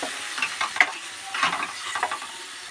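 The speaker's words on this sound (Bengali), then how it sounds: "এবার একটু মশলাটা কষে নিতে হবে" Spices for chickpea ghugni frying and being stirred in a pan, close and fairly loud, with a steady sizzle broken by scraping strokes of the spoon; no one talks.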